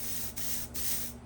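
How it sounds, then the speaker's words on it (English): Spray paint hisses onto a Halo Hunter model in two short, close bursts over a steady low background hum, with no talking. "That little tiny spray on that face right there."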